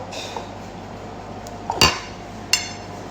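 Tomato sauce with ricotta being stirred in a dish, heard as a few distinct close clinks and scrapes of a utensil against the dish over a quiet background.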